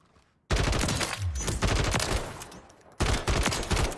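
RAM-7 assault rifle bursts in Warzone 3, with loud rapid automatic fire in two sustained strings broken by a short pause and preceded by a brief quiet moment.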